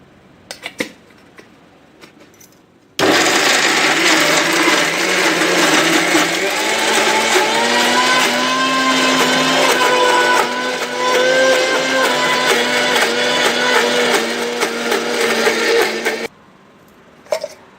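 A kitchen mixer grinder whirs loudly and steadily while blending ginger and garlic with turmeric and salt into paste. The motor drones for about thirteen seconds, the pitch shifting slightly midway, then cuts off abruptly into quiet with faint handling noises.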